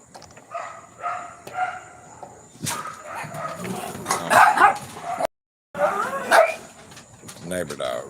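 Neighbor dogs bark and yip repeatedly from fairly close by, a string of sharp barks mixed with whimpers, with a person talking over and between them.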